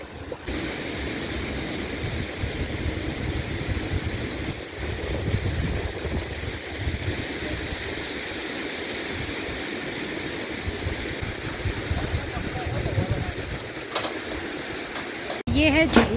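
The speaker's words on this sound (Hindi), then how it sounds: "ये है झरने का पानी" Waterfall water rushes along a stream in Thatri Valley near Dharamshala as a steady, broad wash of noise with some wind buffeting, continuous and fairly close throughout.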